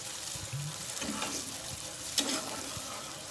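Water poured into a pan of cooked-down spice paste for pabda fish, giving a steady sizzling hiss with a brief louder splash midway, close and alone.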